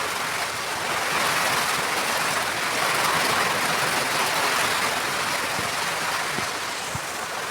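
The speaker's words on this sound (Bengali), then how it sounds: "তো বন্ধুরা এত দূরে বৃষ্টি হচ্ছে, আমাদের টিনগুলো মানে নড়ছে" Steady, loud broadband rushing of rain and gusting wind outside a house with a tin roof during a sudden afternoon storm, continuous throughout with faint rattles and no talking.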